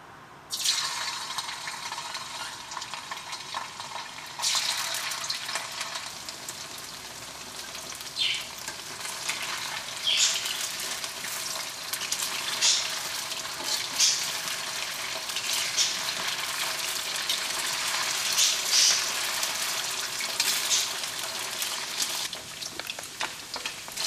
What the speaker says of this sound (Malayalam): ഇനി നമുക്ക് ചിക്കനെ വറുത്തെടുക്കുക.